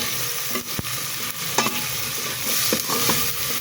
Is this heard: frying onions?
yes